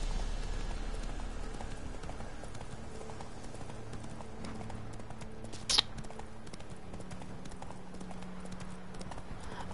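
Roach the horse gallops in The Witcher 3: Wild Hunt, Hearts of Stone, a steady rhythmic clip-clop of hooves running throughout over a low ambient bed, with one brief sharp accent midway.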